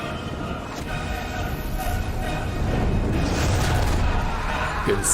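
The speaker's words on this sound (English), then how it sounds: "Explosion time!" A cartoon explosion blasts out in an animated fantasy battle, set off by tossed booze: a sustained, loud, rumbling roar with crackling bursts that swells over several seconds, with voices faintly audible beneath.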